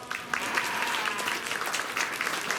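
A round of applause for youth exhibitors at a county fair sheep show, moderate crowd clapping that holds steady with a few sharper claps standing out.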